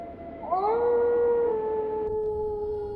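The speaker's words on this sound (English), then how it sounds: "listen to the howling wolves" Wolves howl in a video game, long rising tones that settle into a sustained chorus of overlapping howls, loud and close with no talking.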